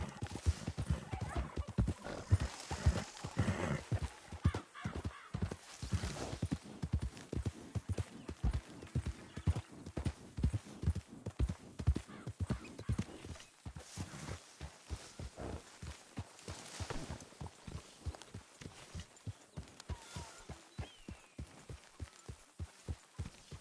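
Rapid, rhythmic hoofbeats of a galloping horse in the video game Red Dead Redemption II pound continuously, with occasional whinnies and faint background voices.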